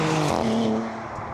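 A new Maserati GranTurismo sports car drives close by, its engine giving a loud, strained tonal roar that holds steady, then eases off and fades slightly near the end.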